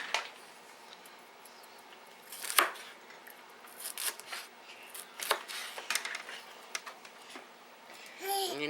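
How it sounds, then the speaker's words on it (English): Peppers are cut with a knife in a home kitchen, giving faint, irregular cutting and crunching sounds close by, scattered over a quiet background with a few sharper snips. "Now I'm just cutting up the peppers"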